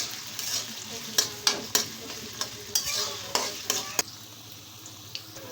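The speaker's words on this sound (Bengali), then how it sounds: "এখন আমি দিয়ে দিলাম তেল তারপর দিয়ে দিলাম পেঁয়াজ" Onions frying in hot oil for Saudi kabsa, a steady sizzle broken by sharp clinks and scrapes of a spoon stirring in the pan, up close.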